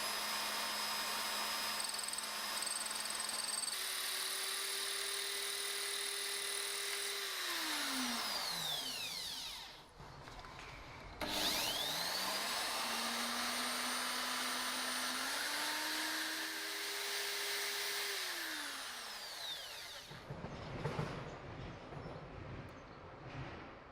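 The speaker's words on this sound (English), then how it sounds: "Next, I cut the tube to length and polish the inside." A hydraulic brake tube is cut to length and its inside polished. A motor whine holds a pitch and winds down, then spins up again through shifting tones. A steady mechanical hiss sits underneath, with no talking.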